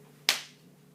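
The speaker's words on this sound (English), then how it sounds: "Thank you for the applause." A single sharp hand clap during a math lesson, one crisp close snap with a quick decaying tail in an otherwise quiet room.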